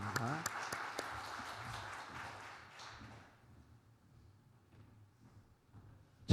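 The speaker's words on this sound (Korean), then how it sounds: "우리 유승열 원장님 나오실 때 우리 박수로 환영합니다" A church congregation at a Sunday afternoon service claps to welcome a speaker. The applause is moderate and lasts about three seconds, then fades into a quiet room with faint movement and a brief knock at the end.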